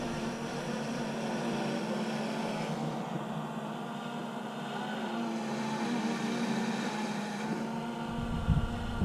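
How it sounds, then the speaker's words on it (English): A drone hovers over an outdoor beehive nuc installation, giving off a steady, even buzzing hum that lasts throughout at moderate loudness. "The buzzing you hear is the drone, not bees."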